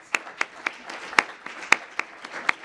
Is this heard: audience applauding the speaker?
yes